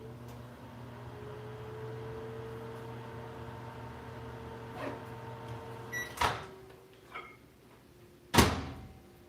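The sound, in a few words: microwave oven door and running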